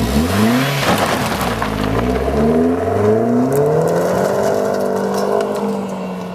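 A Chevy Exotic Turbo with a coffee-can style exhaust drones loudly nearby, its engine note rising and falling through a couple of revs in a steady buzzing whir.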